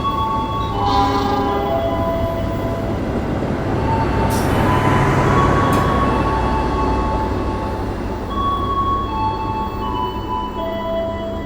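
An executive-class passenger train rushes past on Indonesian rails, a loud sustained roar and rumble with brief horn-like tones and squeals, heard up close from another train throughout.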